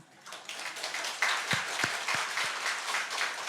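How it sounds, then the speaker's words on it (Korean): A Sunday morning church congregation gives a brief, moderate round of applause, with scattered clapping that builds and stays fairly even, a few distinct close claps near the middle, and no clear speech over it. "지금 유일하게 함께 사는 남편이 계신다면 오늘 박수 한번 쳐주세요."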